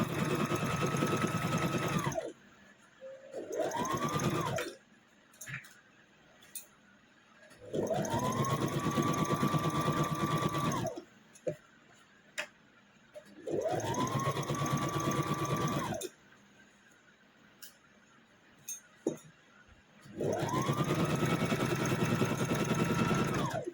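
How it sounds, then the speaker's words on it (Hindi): Sewing machine stitching the front part of a child's short kurta, running in four long steady bursts with brief pauses and small clicks between them, close and loud with no talking. "अभी फ्रंट पार्ट में हमें ये स्टिच कर देना है।"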